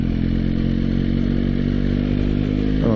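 A motorcycle cruises steadily with a continuous engine drone and wind rush, easing off gently as it brakes for a vehicle turning ahead on a 30-limit road.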